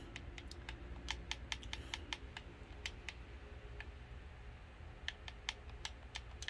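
Rapid keystrokes on a computer keyboard while entering an Xbox app search, irregular clicky taps in short bursts over a low steady hum, fairly quiet and close.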